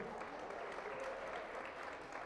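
Applause for marathon participants at the close of an event, a steady wash of clapping that stays fairly even throughout, moderately faint, with no clear voices on top.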